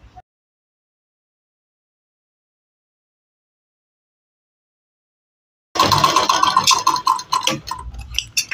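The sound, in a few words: sewing machine stitching a blouse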